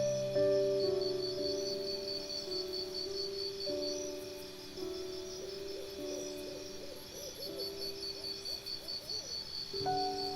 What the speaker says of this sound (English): The brown fish owl is a fish owl species in the family known as typical owls, Strigidae.